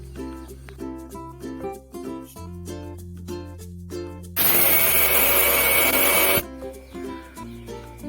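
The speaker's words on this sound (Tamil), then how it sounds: "கொஞ்ச நேரம் ஆறட்டும், நம்ம மிக்சியில போட்டு பொடி பண்ணிக்கலாங்க" A kitchen mixer grinder whirs loudly for about two seconds, grinding roasted ingredients into powder. Tonal music plays before and after the grinding.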